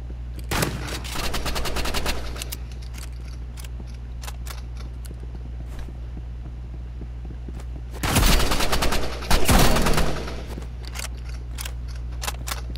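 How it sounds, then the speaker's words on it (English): Assault rifle fire in Roblox Rivals, loud rapid bursts of automatic shots near the start and a heavier, denser volley around the middle, over a steady low game hum. "Of course he used an assault rifle."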